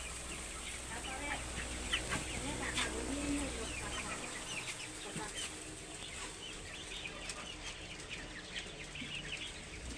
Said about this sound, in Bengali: কোয়েল পাখির পাশাপাশি পোলট্রি মুরগি রাখছি